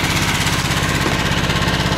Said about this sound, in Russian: Тихонечко газуем.